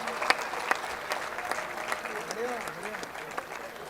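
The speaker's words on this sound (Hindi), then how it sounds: "एक बार आप तालियां बजा दीजिए" Audience applause at a Hindi kavi sammelan comedy poetry event, a sustained crowd clapping over 4 seconds with a few sharper claps, with a voice speaking over it.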